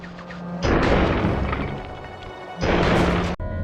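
Tank turret firing in the video game Sly 2, two heavy booming blasts with crashing debris, the first long and rumbling, the second shorter and cut off abruptly.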